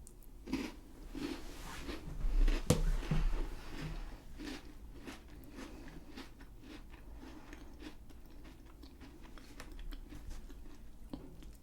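British biscuit from a Christmas selection being bitten with a sharp crunch near the close microphone, followed by soft, steady chewing and mouth sounds in a quiet setting.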